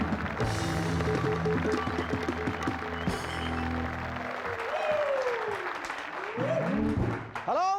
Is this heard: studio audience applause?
yes